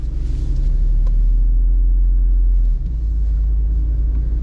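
A 2024 Jeep Wrangler Rubicon 392 V8 on a test drive gives a loud, deep, steady low rumble from inside the cabin, dipping briefly partway through, with no talking.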